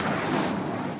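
An Incendio fire spell cast in Hogwarts Legacy bursts out as a dense, roaring rush of flame that holds steady and loud for about a second, with no voices.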